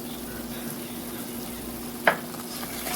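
A thick coconut sugarcake mixture of coconut and sugar is stirred in a pot, a soft continuous scraping and bubbling with one sharp clink of the spoon partway through.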